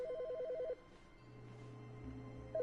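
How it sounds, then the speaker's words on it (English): A video game telephone rings in short warbling electronic bursts, one pulsing ring, a pause, then the next ring starting, at moderate level over a low steady background hum, with no talking. "There's a phone ringing."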